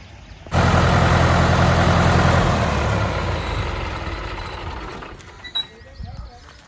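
A loud tractor engine idles with a steady low rumble that gradually fades, followed by a short clank near the end.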